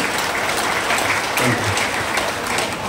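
Sustained clapping from a live audience at a motivational talk, loud and dense with no letup across the whole stretch.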